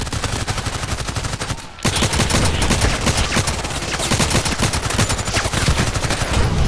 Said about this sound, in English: Yes, I shot him through the fence.